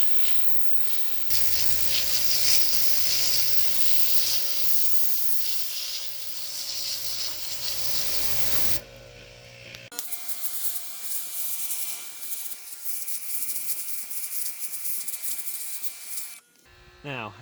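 A high-pressure power washer blasts a concrete driveway with a loud steady spray hiss, pausing briefly before resuming.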